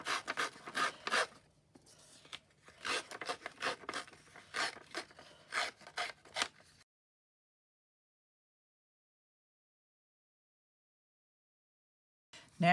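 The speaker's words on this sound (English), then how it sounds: "I'm just going to do a bit of light distressing just down the edges." Distress tool rubbed along the edges of paper pages, a series of close, dry rasping strokes in an irregular rhythm for several seconds, followed by silence.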